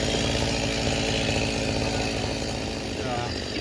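A chainsaw runs steadily and loud throughout, a constant buzzing drone at a bee removal job, with no break in the engine note.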